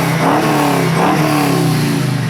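An LS-swapped 1968 Chevy Camaro restomod revs loud and close, its engine note swelling in two quick throttle blips over a deep steady rumble.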